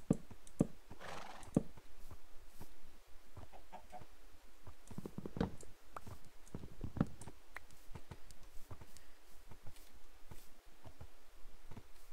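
Horses and chickens in the video game Minecraft, several short neighs and whinnies mixed with clucking and clicky hoof-like taps, scattered irregular bursts over a quiet low hum.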